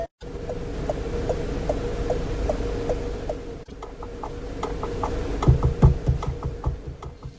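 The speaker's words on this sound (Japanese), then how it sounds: "ウインカーの音ですね。" Turn signal of a Citroën car clicking steadily inside the cabin, a regular series of sharp ticks over a low engine and road hum, close and moderately loud.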